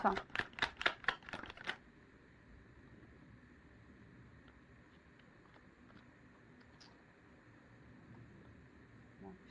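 Tarot cards are shuffled for a nine-card spread: a quick burst of about seven crisp riffling slaps in the first two seconds, close and clear, followed by quiet room noise.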